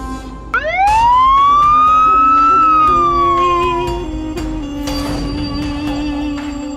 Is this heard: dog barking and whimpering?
no